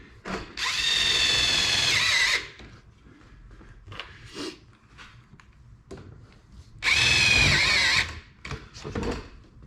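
A power drill drives self-tapping screws into a metal tube on an Eskimo Eskape 2400 ice shelter, giving two loud, steady whirring bursts about two seconds each, separated by quieter handling clatter.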